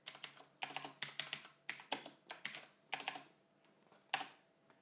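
Rapid keystrokes on a computer keyboard as a name is typed, coming in short bursts of clicks separated by brief pauses, close and fairly quiet with no talking.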